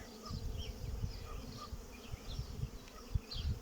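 Carniolan honey bees buzz at an open hive while the colony works, a steady low drone with scattered nearer individual bees passing close, all without speech.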